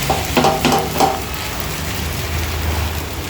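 Polelu flatbread cooking in a pan over a low flame, a steady close hiss and sizzle with a few soft taps and scrapes near the start, no talking.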